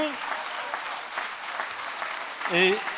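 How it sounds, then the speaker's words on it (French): Audience applause at a Relais pour la Vie closing ceremony in Marche, 2022, a steady wash of clapping from a crowd throughout, with a voice cutting in briefly at the start and again near the end. "merci pour vos applaudissements"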